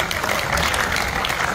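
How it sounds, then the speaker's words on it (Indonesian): Church congregation clapping and cheering together, a dense, loud, continuous wash of applause with crowd voices mixed in, heard close. "Berikan sorak-sorai buat Tuhan."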